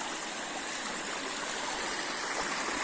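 Water streams steadily from a pipe on a farm plot, a constant, close rushing flow that holds even and unbroken throughout with no voices.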